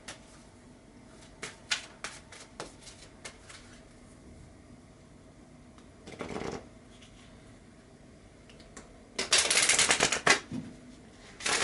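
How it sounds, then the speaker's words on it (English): Lenormand cards being shuffled in a quiet room, several short riffling bursts and taps, with one longer, louder riffle near the end. "now what we're going to do is shuffle the Lenormand cards"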